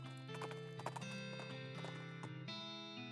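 A spooked ghost horse in the video game West of Loathing trots with rhythmic clip-clopping hooves, then whinnies. The sounds are quiet and are mixed with sustained tonal game music.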